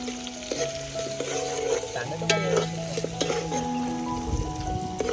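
Onion frying in a pan for egg curry cooked outdoors in a forest, a steady close sizzle with repeated stirring scrapes and faint tonal background hum.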